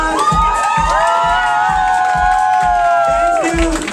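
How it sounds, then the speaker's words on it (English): A crowd at a drag pageant crowning cheers and shouts loudly and steadily throughout, with high whoops over a pulsing low rumble, close and dense without a break. "please give yourself a big round of applause"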